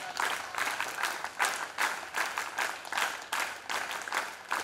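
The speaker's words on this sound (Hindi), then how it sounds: "ताली" Steady audience applause for a visiting Swami at a gathering, with continuous pulsing claps from a mid-sized crowd, moderately distant and without speech.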